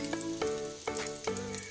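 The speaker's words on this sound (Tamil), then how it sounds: "நல்லா கடாய் சூடாயிடுச்சு. இப்போ தேவையான அளவுக்கு ஆயில் விட்டுக்கோங்க." Hot oil in a kadai, heated for tempering before chicken gravy, crackles and sizzles in a few quick bursts at close range with no voices.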